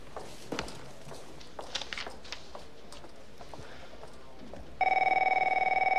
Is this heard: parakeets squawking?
no